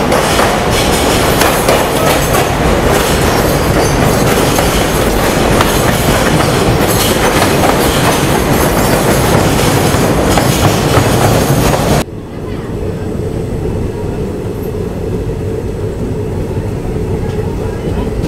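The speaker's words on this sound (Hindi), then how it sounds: "और टनल आ गई है, और टनल के अंदर पैरेलल रेस गुड्स ट्रेन के साथ।" Passenger train in India rumbling loudly through a tunnel alongside a parallel goods train, a dense continuous roar of wheels and rail clatter that drops suddenly in intensity partway through and then carries on more muted.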